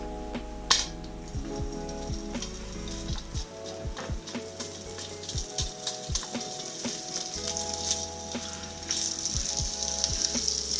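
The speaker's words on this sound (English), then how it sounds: "then we're on to the next part, which is cooking this bacon up" Bacon frying in a pan gives a steady, close sizzle and crackle with a few light utensil clinks and taps. No one speaks.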